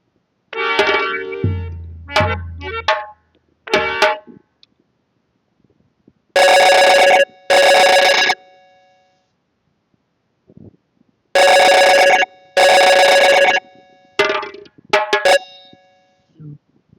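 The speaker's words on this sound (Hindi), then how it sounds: "ये तो पायल का फोन है" A telephone rings in a theatrical stage play, Payal calling: two bursts of loud electronic ringing, a pause, then two more, with someone speaking briefly before and after.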